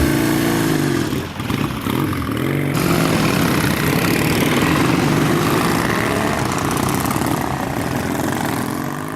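A Norton Dominator café-racer motorcycle roars steadily close by throughout, its loud engine note continuous with no gaps.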